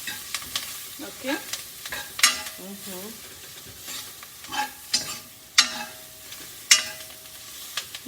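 Spoon stirring chili powder into a black gram and kale soup in a pot, with a soft sizzle under intermittent scraping strokes and sharp clinks against the pot, fairly quiet and close, with a brief spoken word.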